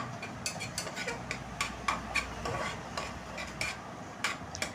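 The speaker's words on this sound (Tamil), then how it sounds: "இப்போ எல்லாமே நல்லா வதங்கி வருது கம்ப்ளீட்டாக" Ingredients for a Tamil vazhaikkai kulambu sautéing in a pan while being stirred, a soft steady sizzle broken by repeated light scrapes and taps of the spoon against the pan, close and quiet.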